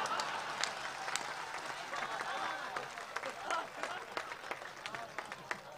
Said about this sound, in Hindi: ताली कम है आपकी